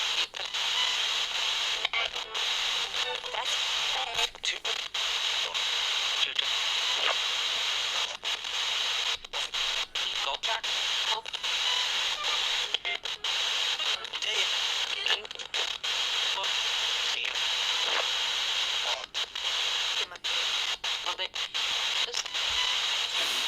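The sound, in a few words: spirit box radio sweeping white noise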